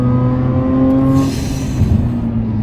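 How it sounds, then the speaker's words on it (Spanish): A Mazda RX8 with a manual gearbox revs past 8000 rpm in second gear, a loud, sustained high engine whine that gives way to rougher road and exhaust roar. "Aquí ha pasado las 8000 vueltas. Todo en segunda"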